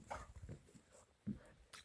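A dog outdoors near water on a mild December day gives a few brief, faint barks and yips, with soft background noise between them.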